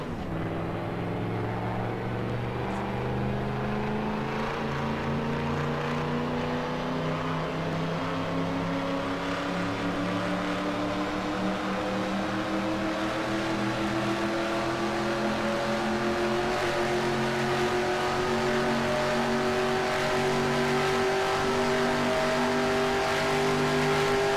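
A race car engine in the NR2003 racing game drones steadily at high revs, its pitch slowly rising as the car accelerates over about twenty-four seconds, continuous and close with no pauses.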